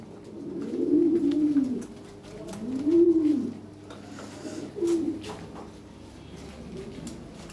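Lahore siraji pigeons coo in three separate rolling bursts, close and fairly loud, with short pauses between and faint background noise.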